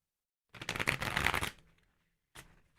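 A deck of tarot cards shuffled close by, one second-long riffling burst followed by a short second flutter, against silence.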